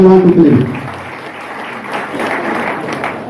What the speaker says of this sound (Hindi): सभी गुरुदेवों के लिए एक जोरदार ताली चाहता हूँ।